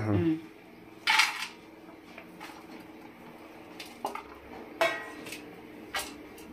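A large mixing vessel is handled while chopped greens, carrot, onion and green chilli are added for masala akki rotti, giving a few sharp metallic clinks and knocks spaced out over a quiet, faintly humming kitchen.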